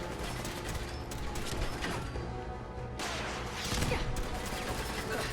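Rocket launcher fire and explosions crash through a dense Fallout 4 gunfight, with continuous loud blasts, rumbling debris and layered gunfire filling the scene without a break.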